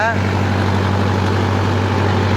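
A Nova tractor engine runs in creeper second gear while working a rice field, a loud, steady low drone throughout, with a brief voice at the start.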